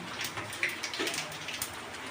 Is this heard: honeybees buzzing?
no